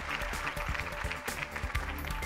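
Applause from an audience at a responsible-innovation event in Lorraine, a dense, steady patter of many hands clapping at moderate volume with a few heavier thumps mixed in.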